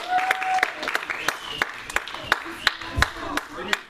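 A youth gathering claps in sharp, separate claps spaced fairly evenly, standing out over a murmur of voices and chatter in a roomy space.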